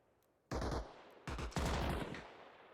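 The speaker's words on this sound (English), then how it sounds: "This MG still has ammo." Bursts of machine-gun fire in the military game Arma Reforger, three loud close volleys of rapid automatic shots separated by short pauses, with no talking over them.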